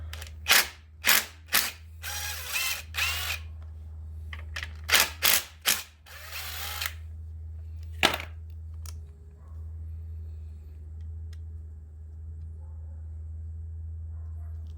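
A 10 mm socket ratchet works loose the timing chain tensioner bolt on a Honda ATV engine during a crankshaft job, giving bursts of sharp, close clicking that stop after about seven seconds, leaving a low steady hum.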